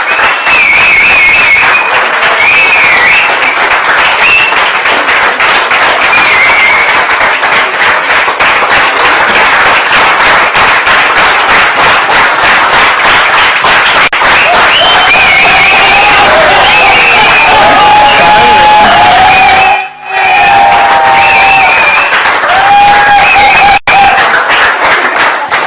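A crowd at a T20 World Cup cricket broadcast stands and applauds in a long, loud, continuous ovation, with cheering and whistles mixed into the dense clapping.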